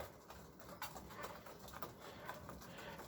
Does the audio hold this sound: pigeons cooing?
yes